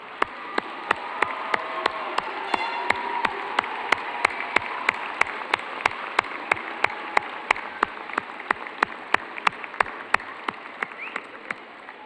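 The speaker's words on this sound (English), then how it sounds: "I would ask the graduates to stand and salute with your applause your family and friends" Graduates applauding their family and friends at a university fall commencement ceremony, a dense, even patter of many hands clapping together, sustained at moderate volume in a large hall.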